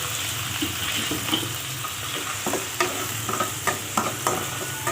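Chopped onions fry in hot oil with ginger-garlic paste and cumin seeds for a cluster bean and potato curry, giving a steady, close hiss of sizzling broken by repeated spoon scrapes and taps as the pan is stirred.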